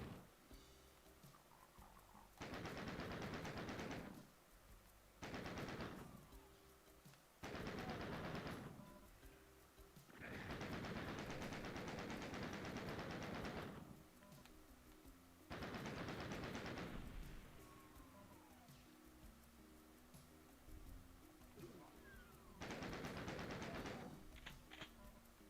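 Bursts of machine gun fire in a video game, six or seven loud rattling volleys of one to three seconds each, separated by short quiet gaps over a low background hum.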